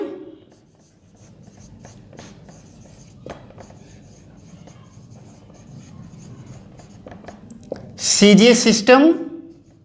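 Chalk or pen scratching out short strokes on a board during an electrostatics lecture, faint and sporadic taps and scrapes, followed near the end by a louder burst of someone speaking.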